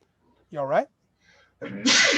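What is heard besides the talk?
sneeze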